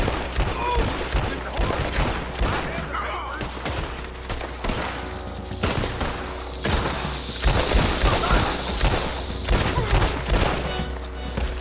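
Dense gunfire from Lansing's gunmen in the Red Dead Redemption 2 video game, a near-continuous fusillade of overlapping shots and booms lasting throughout, loud and chaotic with occasional voices mixed in.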